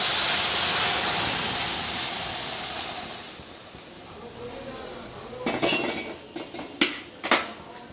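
Dal poured into a hot, slightly burnt tempering with tomato in a pot: a loud steaming hiss that fades, followed by several metallic clinks of a spoon against the pot.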